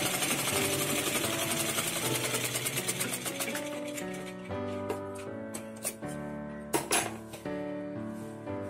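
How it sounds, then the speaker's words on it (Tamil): A sewing machine runs a double line of stitching on a skirt with a continuous loud mechanical whir, giving way to shorter start-stop bursts and light metallic clicks toward the end. "எல்லாம் டபுள் தையல் போட்டுக்கணும்."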